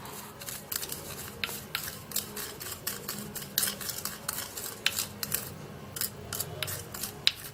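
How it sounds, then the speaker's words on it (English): A toothpaste lip scrub mixture is stirred in a small container, giving a close run of scraping, clinking taps as the utensil works through the paste. Nobody speaks. "Then I would have to stir this all together."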